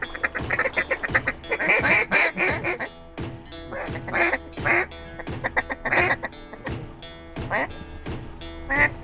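Ducks quack repeatedly in bursts, loud and close, during an early-morning waterfowl hunt from a blind, the calls overlapping in a busy, irregular chorus.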